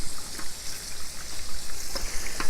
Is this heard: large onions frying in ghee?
no